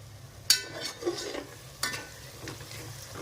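Spice masala for chicken biryani being stirred in a pan, with a few sharp spoon knocks against the metal and soft scraping and sizzling between them, close and fairly quiet.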